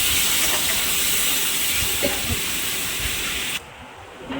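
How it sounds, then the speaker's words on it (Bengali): A steady, loud hiss of a coriander leaf, green chilli and ginger paste sizzling in hot oil fills the clip, then drops off abruptly near the end, with a few faint knocks. "এবার আমি বাটা মশলাটা দিয়ে দেবো, ধনে পাতা, কাঁচা লঙ্কা, আদা বাটাটা দিয়ে দেবো।"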